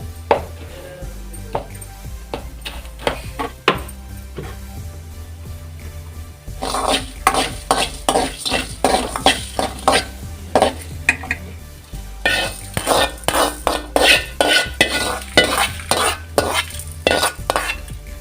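Coriander seeds and other spices are stirred in hot coconut oil in a pan, with loud, rapid, rhythmic scraping and clanking of a spoon against metal over a steady low hum and a light sizzle.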